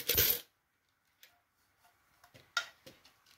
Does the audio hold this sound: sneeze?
no